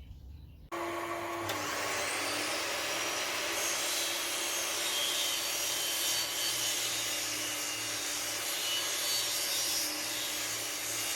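A miter saw spins up and cuts through a large wood miter, a loud continuous whine and grinding rasp that starts abruptly and holds steady for the whole stretch.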